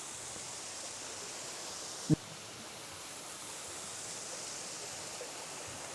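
A small baby waterfall and stream near Bhalugaad waterfall in Mukteshwar rushes in a steady, even hiss of falling water, with one sharp click partway through and no voices.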